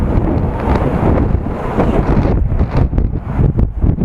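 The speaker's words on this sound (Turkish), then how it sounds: "hakikaten çok güçlü bir rüzgar var" Strong wind buffets the microphone in heavy, continuous gusts that roar and flutter, turning choppier toward the end.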